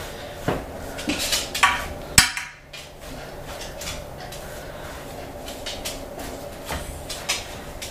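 A spoon taps and scrapes apple cobbler topping into a baking dish, giving a few sharp metallic clinks close by early on before settling into quieter kitchen background.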